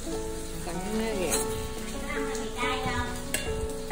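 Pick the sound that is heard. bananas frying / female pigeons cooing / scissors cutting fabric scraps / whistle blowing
bananas frying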